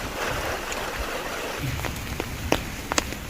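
Rain falling in a city, a steady close patter on surfaces with scattered sharper drips and splashes, no voices.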